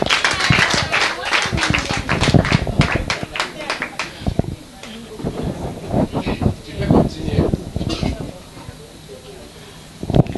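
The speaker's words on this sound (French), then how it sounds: "Elle rentre à sa place sous vos applaudissements" Audience applause at a birthday celebration, scattered claps mixed with loud voices and shuffling, the clapping thinning out midway while people keep talking.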